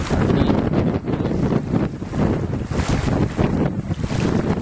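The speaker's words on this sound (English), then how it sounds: "Nice windy day" Strong wind gusting and roaring over the microphone at Farrens Park, Ingleside, steady and loud, with choppy water sloshing and splashing underneath.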